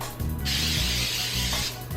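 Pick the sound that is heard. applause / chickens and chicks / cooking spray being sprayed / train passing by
cooking spray being sprayed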